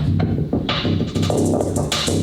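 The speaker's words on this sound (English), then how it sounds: "That's my Kyma drums in a sequence with a little bit of SE1 synthesizer." A distorted electronic drum pattern from Kyma with an SE1 synthesizer loops steadily, gritty synth hits and a droning buzz repeating in a tight rhythm, loud and close with no voices.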